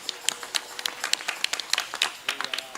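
Scattered, uneven hand claps from a small audience at an Islamic sermon gathering, with sharp individual claps rising and falling across the moment and no one speaking.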